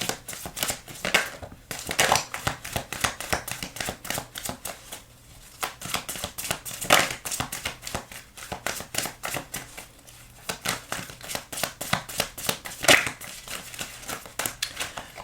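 Tarot cards are shuffled by hand in close, crisp rapid riffles and flicks that come in repeated bursts with short pauses between them, with no voice.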